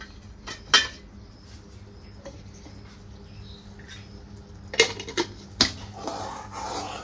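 A spoon stirs coconut sugar syrup in a pan, giving sparse metallic clinks and scrapes, a few louder knocks near the end, over a quiet background hum.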